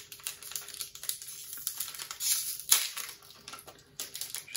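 A Pokémon card booster pack is torn open by hand, giving a run of close crinkling and crackling foil rustles in quick irregular bursts, with a sharper rip near the middle and no talk.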